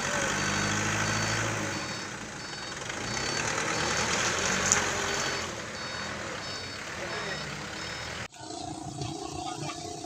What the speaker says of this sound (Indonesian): motor kolar muatan 4 kubik lewati jembatan